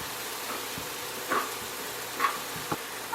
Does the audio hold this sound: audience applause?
no